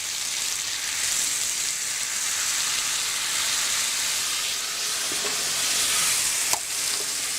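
Water added to a hot pan hits with a continuous loud sizzle and steamy hiss, steady throughout with a brief clink near the end.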